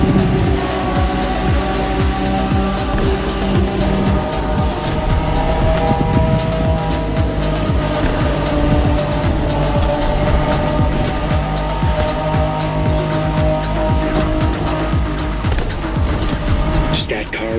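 A Liberty Walk 1992 Honda NSX races at speed through a speedway with tunnels in The Crew Motorfest, its engine a loud, steady drone that holds throughout without a break.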